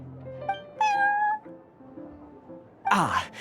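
Prince, a cat character in the video game Genshin Impact, meows several times: a short mew, then a longer drawn-out meow, and finally a loud, wailing cry, all close and clear with no talking.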